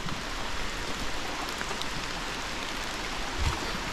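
Morning rain falls steadily as a dense, even hiss of drops on surfaces, close and continuous with no voices, in a flood season setting.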